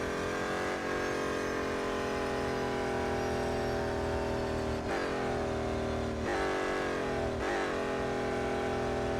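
BMW M Hybrid V8 race car in Real Racing 3, a continuous high revving engine whine with several sharp gear shifts and throttle dips, loud and close, no speech.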